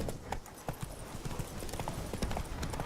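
Horse hooves in the video game The Witcher 3, a fast, steady clip-clop of galloping, moderately loud against a busy outdoor game background.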